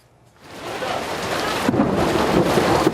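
Heavy rain pours steadily while thunder rumbles and builds, the roar growing louder and fuller after a quiet start.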